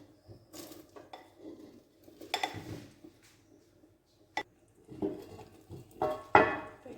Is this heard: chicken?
yes